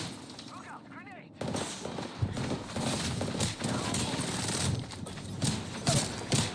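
Gunfire in the shooter video game Apex Legends: repeated bursts of rapid shots across several seconds, mixed with game noise, with voices talking over it.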